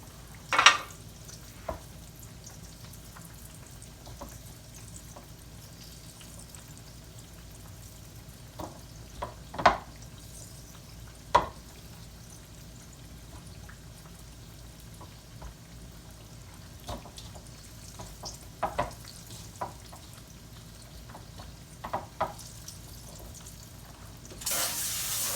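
Green tomato slices frying in a pan make a faint, steady sizzle with scattered clicks and taps of handling. A brief louder burst comes near the end, and no one speaks.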